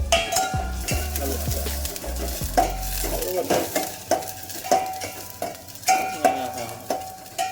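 Onion frying in a pan with potato and garlic is stirred with a spoon, a close, rhythmic series of metal scrapes and clinks over a steady sizzle, with a low hum at the start and no talk.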